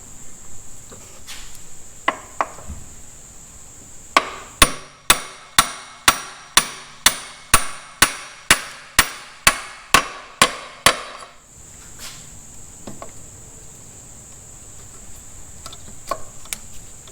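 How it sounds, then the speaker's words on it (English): A hammer strikes a socket to press an A/C compressor clutch pulley into place: about sixteen sharp metallic taps in a steady, even rhythm, close and loud over a high insect-like hum, with no talking. "just tap on it with a hammer, and then use that to essentially just push the pulley on"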